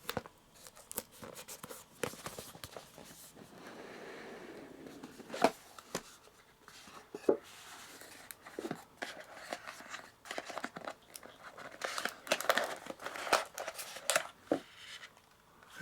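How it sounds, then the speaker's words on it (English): A packaging seal is peeled away from a Brinyte PT16A flashlight kit with intermittent crackling, tearing and rustling. The sharp snaps and crinkles are close, uneven and moderately quiet, with no voice. "so we're just going to peel it off."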